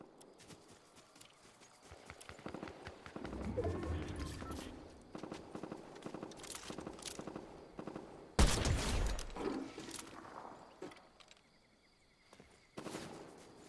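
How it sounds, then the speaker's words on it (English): Gunfire in a Fortnite firefight crackles in rapid bursts, with a loud close volley midway among scattered shots and running footsteps at moderate level. "There is a firefight."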